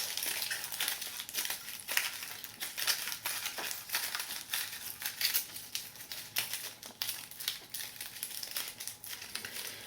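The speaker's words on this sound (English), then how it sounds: "And then I start meshing it down into the shape I want. And putting the foil together." Aluminium foil being crumpled and pressed by hand into a heart shape, a close, continuous crinkling with sharp crackling bursts and no voices.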